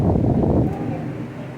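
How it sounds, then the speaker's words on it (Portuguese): Strong outdoor wind buffeting a microphone during an open-air church service: loud low rumbling gusts that ease off after a moment. "O vento aqui é potente."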